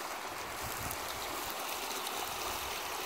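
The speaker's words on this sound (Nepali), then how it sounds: "यहाँ पानी खसालिरहेको छ, यत्रो पानी आइरहेछ" Water pours down a hillside in a steady stream, a constant bright rushing and splashing at close range, fairly soft in level and unbroken throughout, with no voices.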